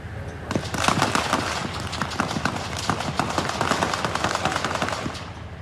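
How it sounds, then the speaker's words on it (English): A witness's phone recording of a police shooting near McQueen and Pecos Roads in Chandler, with a rapid, dense string of gunshots cracking steadily for several seconds, fairly distant and rough. "a witness was recording as the gunshots rang out"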